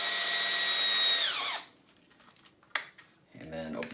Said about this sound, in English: stick the wires at the end of the chuck, and tighten them down.